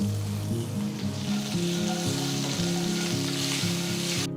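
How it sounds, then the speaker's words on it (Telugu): Peanuts, asafoetida and curry leaves frying in a pan, a steady close hiss of sizzling oil running throughout under a faint background drone, with no voices. "వేరుశనగ పప్పులు వేగిన తర్వాత ఇందులో అర టీ స్పూన్ అంతా ఇంగువ వేయాలి అలాగే కొన్ని కరివేపాకులు కూడా వేసి అంత బాగా కలపాలి"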